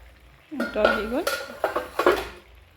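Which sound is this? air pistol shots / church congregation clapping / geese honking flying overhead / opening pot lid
opening pot lid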